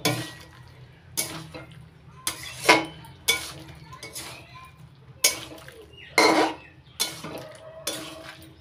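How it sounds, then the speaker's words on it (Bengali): Ground masala being stirred into a puti fish chachadi with winter vegetables in a metal pan, a spoon scraping and clinking against the pan in about a dozen sharp, irregular strokes, close up, over a faint low hum. "এবার নাড়াচাড়া করে মশলাটা ভালো করে মিশিয়ে নিচ্ছি।"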